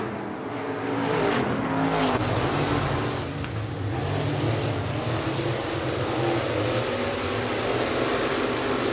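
IMCA stock cars racing on a dirt track, with a continuous loud roar of several engines at close range and no pauses.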